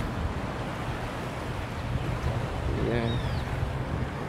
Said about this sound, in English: And this is the Atlantic Ocean, it's not the Caribbean Sea as we were told in school.